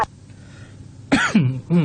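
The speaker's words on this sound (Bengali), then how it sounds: "sorry for the Kashi" After a quiet stretch, a person close by gives a couple of harsh coughs and throat-clearing sounds in quick succession.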